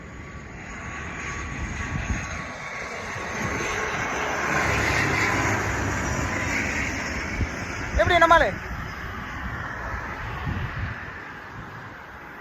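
An airplane engine drones steadily overhead with wind noise buffeting the microphone, while someone speaks briefly in Tamil and a short rising whine cuts through midway.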